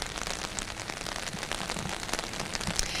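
Steady rain falls during a storm that disrupted outdoor high school graduation ceremonies, a dense, even hiss of drops on surfaces with faint crackles, continuous and fairly close, with no voices.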